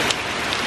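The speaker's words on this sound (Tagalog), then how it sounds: "medyo umuulan" Light rain patters steadily on a street surface in a brief, continuous wash of noise with no talking.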